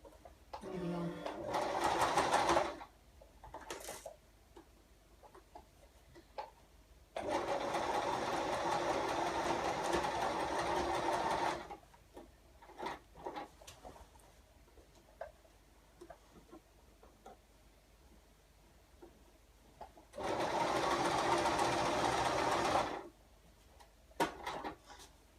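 A sewing machine stitches the sleeves of a girl's dress in three separate bursts of rapid whirring, with quiet pauses and a voice talking between runs.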